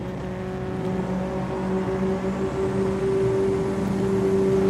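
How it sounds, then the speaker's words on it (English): At a drag racing event, a Kawasaki drag bike builds turbo spool, a rising steady whine over a droning engine, close and loud, climbing gradually across a few seconds with no talk. "So Clemens spooling up the turbo."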